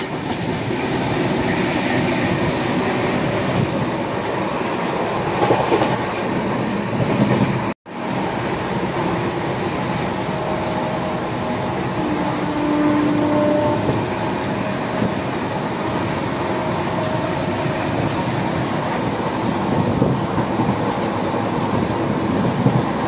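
Train running at high speed on the Pune to Kolkata route, a loud, steady rumble of wheels and carriages with continuous clatter and a brief sharp dropout near the eighth second before the roar resumes.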